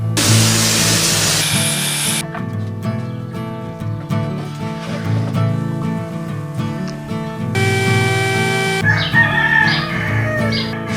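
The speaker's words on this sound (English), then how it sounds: "Shut the heck up, you stinking roosters." Roosters crow repeatedly over a dense, continuous layer of music and mechanical noise at a woodworking party in Las Vegas, loud throughout.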